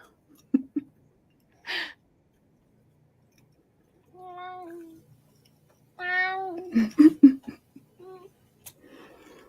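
A house cat meows a few times in short, fairly quiet calls with gaps and small rustles between them, and no talk over it.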